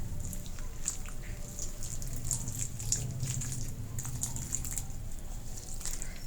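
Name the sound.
water poured into potted plants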